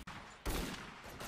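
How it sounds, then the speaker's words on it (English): Video game gunfire erupts in a loud, dense burst of rapid shots that sounds like a sustained volley, with a brief gap near the start and no voices. "Oh my goodness, they're shooting us."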